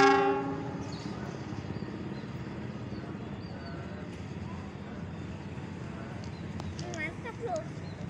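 KRL commuter trains, a TM 6000 and a JR205, rumble past each other with a steady, heavy roar, a horn blast at the start and squealing wheels near the end.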